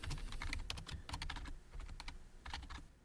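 Steady typing on a computer keyboard while writing bulleted text for a formal business letter in Word, with irregular bursts of close, crisp key clicks and brief pauses between runs.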